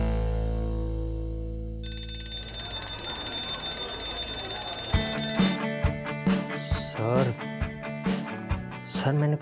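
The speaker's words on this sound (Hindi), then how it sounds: "तुमने सिर्फ मजाक में फायर अलार्म ऑन कर दिया" A fire alarm bell rings loudly and steadily, first alone with a sustained electronic tone, then joined by rapid metallic bell strikes and indoor commotion as people talk over it.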